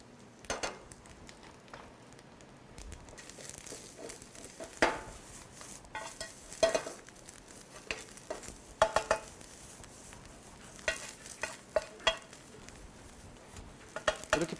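Neungi mushrooms stir-fried in a pan with soy sauce, sugar, sesame oil and sesame salt, giving soft sizzling under scattered scrapes and clinks of a utensil against the pan at an uneven pace.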